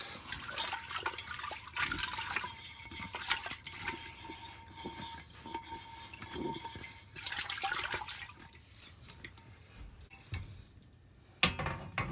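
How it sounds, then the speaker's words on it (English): Water runs from a tap in uneven bursts and trickles while something is rinsed out, fairly quiet and close, with a few clunks and pauses between flows. "I'm just gonna wash this out."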